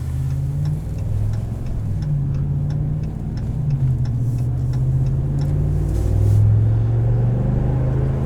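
A 2021 Ram 1500 Longhorn's 5.7-litre eTorque V8 accelerating, heard from inside the cab as a steady low engine drone that rises slightly in pitch, with faint ticking above it and no talk.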